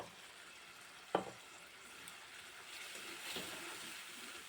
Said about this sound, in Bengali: ভেজে রাখা আলুটা দিয়ে আরও কিছুক্ষণ একটু নাড়াচাড়া করে নেবো